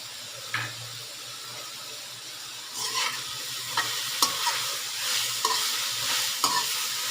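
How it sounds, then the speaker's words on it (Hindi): Noodles and green onion fry and get stirred in a pot, a soft steady sizzle under scraping spoon strokes and a few sharp clinks, close by and with no talking. "नूडल्स को इसमें शामिल करके और जनाब इसको हम फिर फ्राई करेंगे।"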